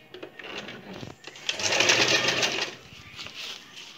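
A sewing machine stitches fabric, with a short close whirring run in the middle between quieter handling sounds and someone speaking.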